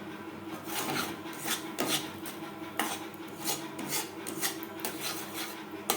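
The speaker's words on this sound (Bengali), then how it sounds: "ব্রাউন কালার আসা পর্যন্ত নাড়াচাড়া করে নেব" Sugar stirred in a pan over a low flame while turning into caramel, with steady rasping scrapes of the spoon against the metal repeating close and fairly loud.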